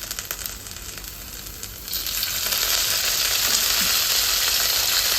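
Green chillies sizzle and fry in hot oil for a pickle of ridge gourd, a steady loud hiss that swells after a quieter start, with occasional faint stirring clinks.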